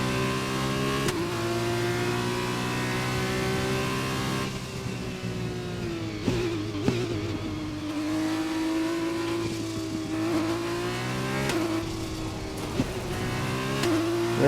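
A Formula 1 race car engine in the video game F1 2021, qualifying in Barcelona, drones steadily with a high harmonic whine, pitch rising and dropping through gear shifts and throttle changes while the tires are warmed up.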